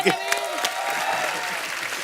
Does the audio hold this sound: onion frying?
no